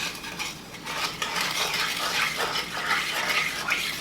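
Steady close wash of stirring and sloshing as water is gradually poured into a cocoa mixture for chocolate gravy, a continuous liquid swirl with faint utensil scrapes, moderately quiet and unbroken by speech.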